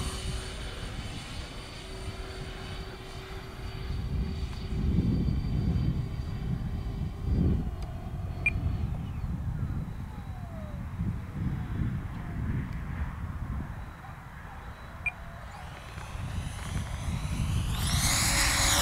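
A 1.8 m model EDF jet with four 70 mm 12-blade fans whines and roars as it passes, with pitch shifting up and down while it flies around at a distance.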